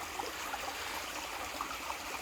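A West Virginia creek with a wide section runs over exposed bedrock and gravel, making a steady, full rushing and trickling sound close by, with no speech.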